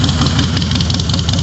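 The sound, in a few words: 2009 Harley-Davidson Night Train counterbalanced engine starting and idling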